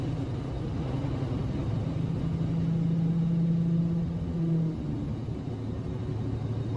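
Truck engine with a 10-speed transmission running steadily, a low rumbling drone whose pitch holds then drops around the midpoint as it shifts up a gear, close and continuous with no talk.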